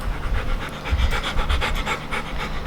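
A dog pants rapidly and close up, a steady rhythmic huffing of quick breaths that continues throughout, loud and near with no talking over it.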